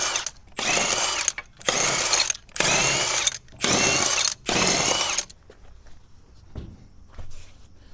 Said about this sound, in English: let's go ahead and get this wheel off. Good old Milwaukee on a dead battery.